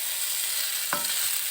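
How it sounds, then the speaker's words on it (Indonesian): Garlic frying in hot oil in a wok, a steady bright sizzle with a single quick stirring scrape near the middle. "Nah, kita goreng, masukkan bawang putih."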